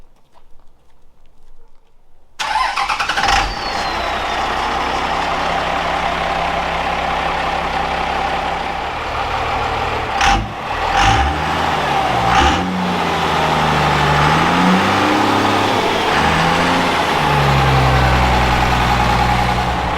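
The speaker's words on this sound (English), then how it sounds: "Let's go fire this truck up." After a short silence a truck engine cranks and catches, then idles roughly and revs up and down several times, loud and close, settling into a steady running drone.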